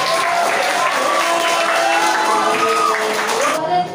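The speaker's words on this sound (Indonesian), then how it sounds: "Kita beri tepuk tangan untuk semua kelompok" Classroom applause for all the student groups after a final group presentation, a steady wash of clapping that holds evenly for several seconds with some tonal music or voices running underneath before it tapers off.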